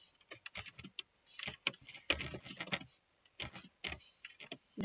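Computer keyboard typing while writing Java code, with bursts of quick key clicks separated by short pauses, close and fairly quiet, no talking.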